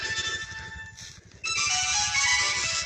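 A mobile phone ringtone plays close by with a sustained electronic melody that pauses briefly and then resumes louder and fuller, sounding alone without talk.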